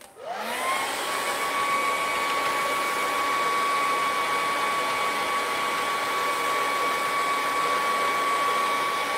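A hair dryer blows on acrylic paint on a canvas, starting up and then holding a steady, loud, close whine with a constant high tone throughout.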